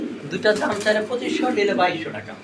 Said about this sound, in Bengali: এখানে একটা লাহোরি আর একটা হচ্ছে সিরাজি নাকি লাহোরি যেটা আছে এটা হচ্ছে নর আর সিরাজি যেটা আছে ওটা হচ্ছে মাদি